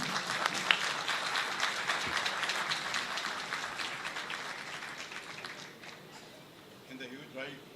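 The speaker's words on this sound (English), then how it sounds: "round of applause" Applause fills a university convocation ceremony hall, a dense, steady wash of many hands clapping that gradually thins and softens toward the end.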